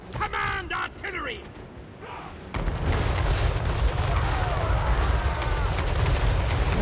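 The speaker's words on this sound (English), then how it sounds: "Command artillery." Empire artillery in Total War Warhammer 3 starts firing during a battle against greenskins. A few brief sounds are followed by a sudden dense, loud roar of continuous booming and battle noise that holds steady, with no voices.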